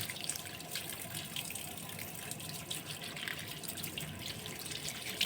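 Vegetables being rinsed under a steadily running kitchen tap, a continuous close splashing hiss of water that carries on without a break and with no talk.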